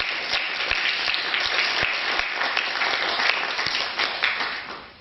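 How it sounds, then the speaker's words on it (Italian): Warm, steady applause from an audience at a violin competition award ceremony for the Lipizer Prize 2022 in Italy, dense clapping sustained evenly throughout with occasional sharper individual claps. "A big and warm applause for all of them"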